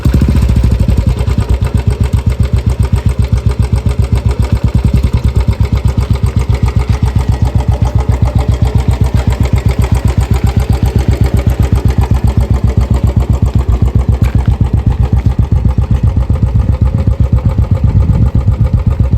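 A Royal Enfield Bullet motorcycle's single-cylinder engine runs at a steady idle, a loud, close, continuous thumping rhythm that holds throughout with no talking.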